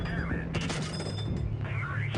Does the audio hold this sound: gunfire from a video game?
yes